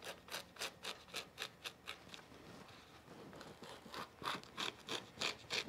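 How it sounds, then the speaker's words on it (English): Scissors snipping through the rib knit cuffs of a fabric garment, a close, steady series of crisp rhythmic cuts repeating about twice a second, with no voices. "I'm just going to cut the cuffs first here so that I can open this one up."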